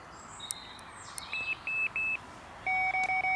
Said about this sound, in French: la centrale qui va biper de cette manière